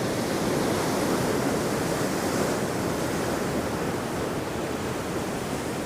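Storm-driven sea breakers crash and churn along Hendon Prom in the North East after Storm Darragh, a loud, unbroken roar of surf with wind buffeting across it and no talk.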